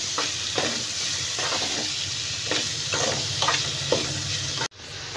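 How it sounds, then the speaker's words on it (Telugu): Chopped green chilies and onions frying in oil, a steady hiss and crackle with regular soft scraping as the pan is stirred, close and even, ending in a brief cut-off, with no voices. "ఇది బాగా గోల్డ్ కలర్ వచ్చే వరకు ఫ్రై చేసుకోవాలండి."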